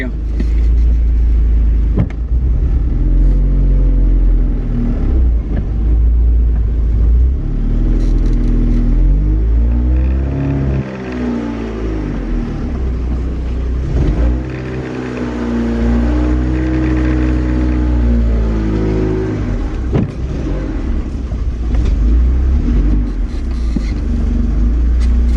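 A manual-swap donor car reverses and then drives off, its engine rumbling and revving with rising and falling pitch sweeps, while someone talks over it throughout.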